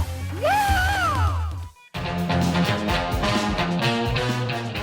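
Liu Kang's high, Bruce Lee-style shrieking battle cry from a fighting video game, a rising and falling wail heard alone, followed after a brief gap by dense, busy game music and effects.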